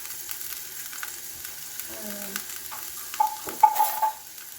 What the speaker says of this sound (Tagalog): Ilagay natin ang ating bawang.